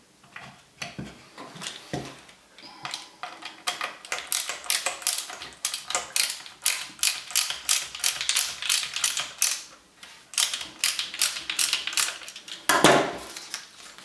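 A bolt on an Ashford SampleIt wooden loom is tightened with its handle during assembly, producing a run of close, rapid clicking and ratcheting taps in uneven bursts, fairly quiet with no talk.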